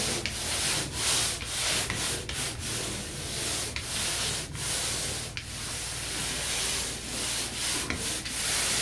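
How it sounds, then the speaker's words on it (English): A mouldy bathroom ceiling gets a light hand sanding: steady, close scratchy rubbing strokes in a repeating back-and-forth rhythm, with no talking. "Next, give it a light sand."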